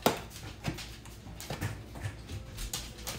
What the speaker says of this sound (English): Oh, when the dogs is barking.